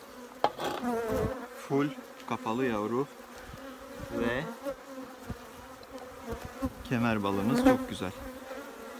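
Native honeybees buzz loudly at an opened hive in winter, agitated swells of droning rising and falling close by while a person talks.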